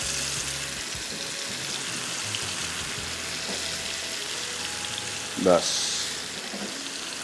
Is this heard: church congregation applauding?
no